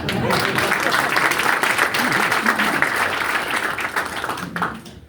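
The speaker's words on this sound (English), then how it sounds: "let's clap for the Democrats too" Audience at a Jackson County town hall claps steadily for about five seconds, a dense, close wash of applause that thins and fades at the end.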